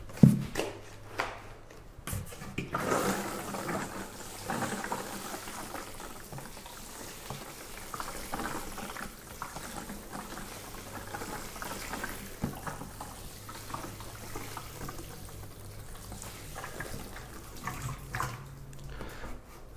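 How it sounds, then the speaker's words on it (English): Pea microgreen trays get a top watering, producing a steady close splashing and pattering of water that runs continuously for around twenty seconds, with a few louder splashes at the start. "then we'll give them a good top watering."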